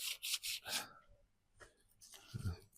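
Hand sanding on a panel of a VW T25 van, several close bursts of abrasive rubbing strokes with pauses between them, moderately loud.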